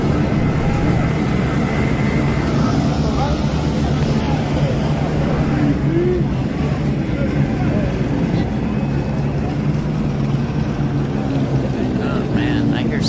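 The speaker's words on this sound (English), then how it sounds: "Oh man, I hear so many different types of engines. I hear like Hemis and helicopters and everything, man. Little scooters going by." Steady rumble of mixed city traffic during a night of riots in Los Angeles, with engines of cars, helicopters and small scooters blending into a constant loud drone, with other noises faintly on top.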